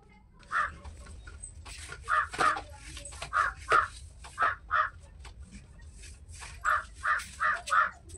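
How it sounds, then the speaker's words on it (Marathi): Several crows caw loudly and repeatedly nearby, harsh calls coming in uneven bursts with short pauses between them. "इथं खूप कावळ्यांचा आवाज येत आहे"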